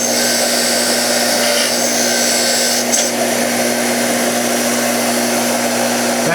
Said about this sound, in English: And then the next step is over to the wire wheel.